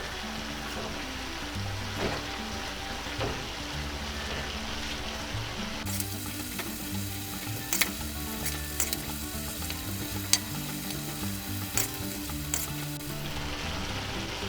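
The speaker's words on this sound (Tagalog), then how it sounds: "Ngayon po ay isusunod ko na po itong Baguio beans. Tapos hahaluin lang natin." Baguio beans for lumpia filling are stir-fried in a pan, a continuous bright sizzle with scattered scrapes and clinks of a utensil stirring them, steady and close without talk.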